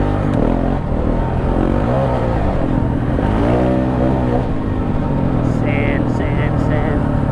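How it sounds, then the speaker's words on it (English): A KTM 690 motorcycle rides over sandy whoops on a hot off-road trail, its engine note rising and falling continuously under heavy wind rumble, with a few brief high chirps near the end. "690 doesn't like these whoops, man"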